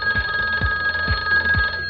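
A telephone rings with a steady electronic warble, and four low thumping pulses come evenly spaced in under two seconds, loud and close with nothing else heard.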